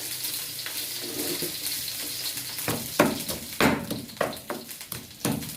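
Pork sizzles steadily in a hot wok, with intermittent scraping and clanking of a utensil stirring it.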